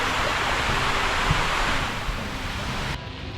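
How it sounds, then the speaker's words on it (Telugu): The Munjuluru waterfall in dense forest in Eluru district roars in a steady, loud rush of broadband noise, continuous and close, with no voices. "ఆ పైన అలా కారిపోతూ ఉన్నాయి నీళ్ళు"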